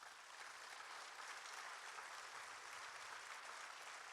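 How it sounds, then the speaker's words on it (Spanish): Church congregation giving an offering of applause, steady dense clapping from many hands, even and sustained without pause, fairly distant and soft. "¿Le puedes dar una ofrenda de palmas al Señor?"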